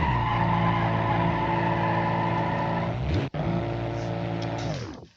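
A car in the BeamNG driving game brakes hard from about 225 mph, tires skidding in a loud, sustained tonal squeal with a brief dropout midway before the screech fades out.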